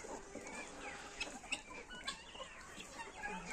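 Hens on a farm clucking, faint and close, soft irregular clucks and small calls over light background noise, brief and without talk.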